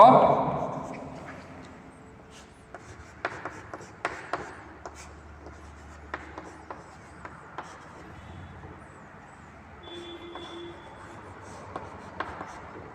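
Chalk or marker writing numbers on a board during a fourth-grade maths lesson, a run of short, soft taps and strokes spread across the clip, fairly faint against a quiet room hum.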